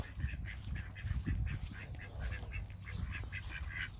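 A duck being chased around a pen by hens, with repeated nasal quacks and honking calls over a steady clamor of fowl, fairly close and continuous.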